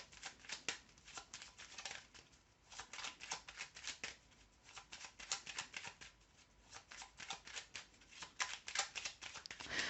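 Tarot cards shuffled by hand at close range in quick, crisp bursts of riffling and slapping, with brief pauses between rounds over about ten seconds.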